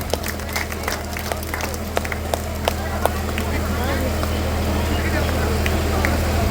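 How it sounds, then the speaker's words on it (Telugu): A church congregation at St. Joseph's feast in Rayapeta village claps steadily, a continuous patter of many hands running under a voice talking over it. "చప్పట్లు కొట్టండి అందరూ."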